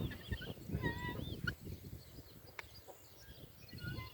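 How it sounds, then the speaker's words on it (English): Red Ranger broiler chickens in a movable grazing pen on grass give soft, scattered clucks and murmurs nearby, with faint higher chirps and calls drifting in the background, fairly quiet overall. "The broilers are right over there."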